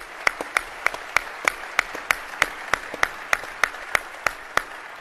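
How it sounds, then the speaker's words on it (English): Applause at a State of the City address: a crowd's clapping under a strong, steady run of loud, evenly spaced single claps from one nearby person, keeping a regular beat. "they deserve a big round of applause"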